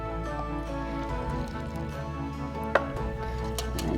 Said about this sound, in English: And just whisk that a little bit to combine it